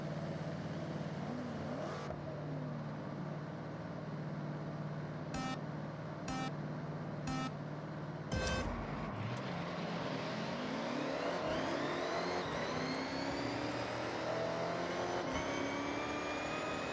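A drag car in Forza Horizon 6, fitted with an aftermarket cam and exhaust, holds a rough idle, then blips and roars into a hard, rising rev that builds and sustains loudly to the end.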